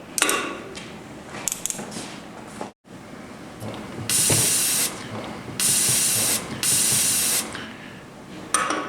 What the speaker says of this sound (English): Now I'm going to go spray it off with brake clean.